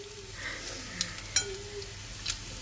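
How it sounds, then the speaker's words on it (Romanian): Shrimp frying in a pan for tartines, a quiet sizzle with a few sharp clinks and scrapes of stirring, close but soft. "Dacă vreți să faceți tartine, creveții trebuie să fie prăjiți bine."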